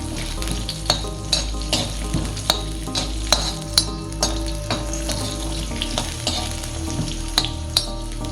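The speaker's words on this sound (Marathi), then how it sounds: "आता आपण थोडे काजू पण भाजून घेणार आहे" Cashews roast in a hot pan for misal, giving a loud continuous sizzle with regular sharp clicks of a spoon stirring against the metal, close up and with no voices.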